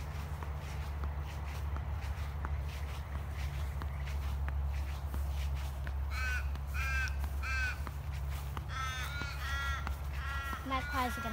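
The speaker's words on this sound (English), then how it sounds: "No, they're not magpies, they're crows." Crows caw in short repeated bursts in the second half, a few calls close together, over a steady low hum and outdoor shuffling footsteps, with people talking nearby.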